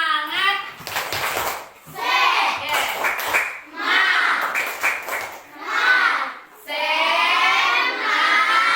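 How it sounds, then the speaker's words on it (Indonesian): A primary school class performs a rhythmic spirit clap, children chanting loudly in time with patterned hand claps in a classroom. "tepuk semangat"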